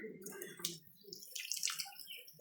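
Water runs steadily at Jireshwor temple in Jiri, a close splashing flow like a tap or spout filling a basin, with voices talking over it.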